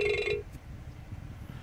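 A phone rings with an incoming call, one short electronic ring tone at the start that cuts off quickly, followed by low background noise.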